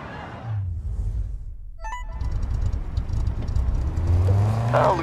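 A car engine revs in the racing game Need for Speed Heat, a close, sustained roar that rises in pitch toward the end, with a short electronic chirp near the middle.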